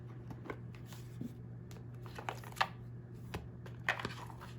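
Oracle of the Dragonfae cards by Lucy Cavendish being shuffled by hand, a soft run of riffling and slapping card noises with a few sharper snaps, set against a steady low background hum.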